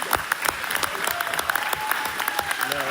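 Audience clapping at a meeting, a dense, steady patter of many hands with sharp individual claps, fairly close and moderately loud for about three seconds, with faint voices mixed in.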